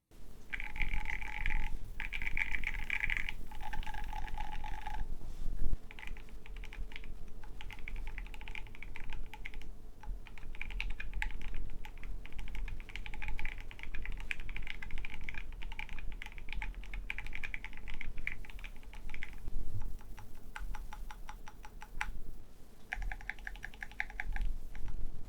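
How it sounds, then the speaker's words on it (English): Steady typing on a TG67 V2 mechanical keyboard from Kinetic Labs, a continuous close run of clacky keystrokes with brief pauses, no talk. "TG67 V2 from Kinetic Labs. And let's get a sound test."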